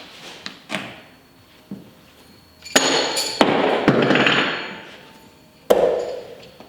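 Blades thrown from 11 metres thud into wooden boards with several sharp, separate impacts, some followed by a short rattling ring, spaced unevenly among quieter moments.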